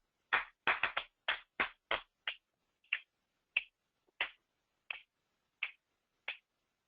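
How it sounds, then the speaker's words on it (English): Crisp finger snaps come one after another, starting in a quick cluster and then slowing to a steady, spaced beat. They are close and quiet, with no talk. "Please join me in snapping and clapping"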